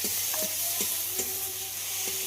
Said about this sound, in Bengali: পেঁয়াজটাকেও খুব ভালো করে কষিয়ে নিতে হবে।